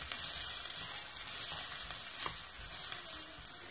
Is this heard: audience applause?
no